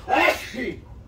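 A single short sneeze, close and sharp, followed by a brief breathy exhale.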